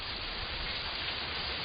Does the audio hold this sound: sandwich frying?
no